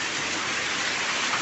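Rain falls steadily outdoors near a home, a dense continuous hiss of drops on surfaces, moderately loud and unbroken, with no talking.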